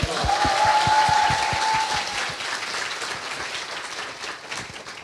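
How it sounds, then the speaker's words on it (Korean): A live audience at a lecture-style talk show breaks into dense applause that is loud at first, then thins and fades out after about two seconds, leaving a scattered clap or two. "박수 부탁드립니다."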